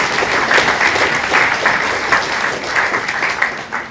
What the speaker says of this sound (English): And a little applause for that also.